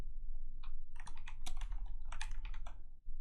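Steady, close typing on a computer keyboard, a quick run of soft key clicks with brief pauses and no voice.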